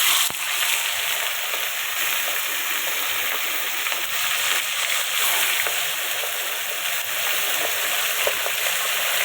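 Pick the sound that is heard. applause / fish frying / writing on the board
fish frying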